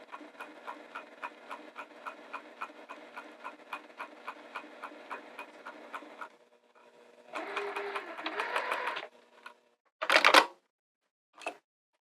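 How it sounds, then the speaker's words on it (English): Sewing machine runs in a fast, even chatter of stitches for about six seconds while sewing curved binding onto fabric, then stops. Shorter bursts of stitching and a couple of sharp clicks follow, all close and clear. "move your fabric so it's easier for you to sew"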